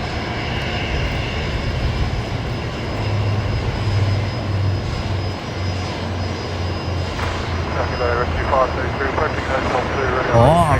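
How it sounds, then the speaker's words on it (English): A Saab 340 turboprop arriving at Brisbane Airport gives a steady, loud engine drone throughout, with a person talking over it toward the end. "coming in with another Saab 340 now"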